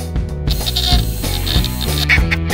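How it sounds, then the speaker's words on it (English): A tap cuts an M6 thread into a 5mm drilled hole during a Land Rover Defender snorkel install, making a rhythmic, squeaky scraping with repeated short strokes, close and fairly loud. "so I made a 5mm hole and I'm going to tap it 6mm now"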